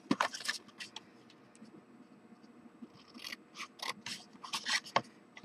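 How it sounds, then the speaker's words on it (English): Scissors snipping through tag card stock in a papercraft session, a few crisp close cuts at the start and a denser run of quick snips near the end, with soft rustling between. "take my scissors"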